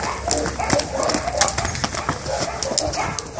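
Donkey hooves clopping on hard ground in an uneven walking rhythm with a rider on its back, close by, with voices talking and some background commotion over them.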